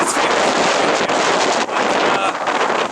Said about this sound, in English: It's called the crazy wind.